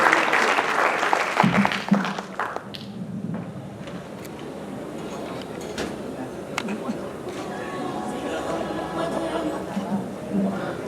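Guests at an OGKMA dinner in a Westin hotel ballroom applaud the incoming president, a brief burst of clapping that fades after two seconds into room murmur and a voice speaking.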